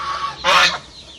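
A single loud, brief honk from a goose, close by and on its own amid quiet farmyard surroundings.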